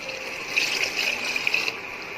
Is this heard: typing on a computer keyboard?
no